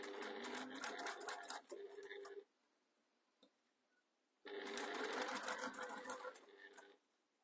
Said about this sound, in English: And we're just going all the way around this edge.